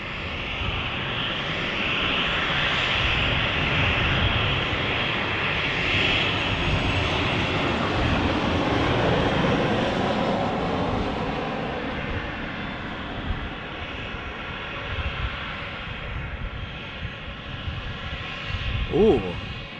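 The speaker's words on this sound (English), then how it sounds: "Oh, look, another Ryanair." A Ryanair airliner at Manchester Airport roars steadily as it passes, a broad sustained engine rumble that slowly fades, with a person talking under the noise.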